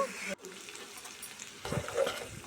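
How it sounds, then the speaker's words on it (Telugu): Prawns fry in a pan with ginger paste and biryani masala, giving a quiet, soft sizzle. Brief bursts of stirring come up near the end. "ఇవన్నీ బాగా ఫ్రై అయిన తర్వాత కొంచెం అల్లం పేస్ట్ బిర్యానీ మసాలా కూడా వేస్తాను"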